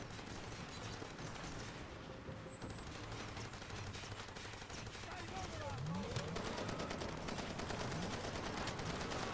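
Far Cry gunfire from hip-fired weapons crackles as a dense, continuous stream of shots that grows louder in the second half, with game sounds mixed underneath.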